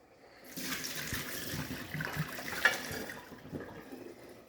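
Hot water poured into a bowl for homemade ramen, a short splashing stream of liquid that rises quickly and tapers off over a few seconds, close by with no talk.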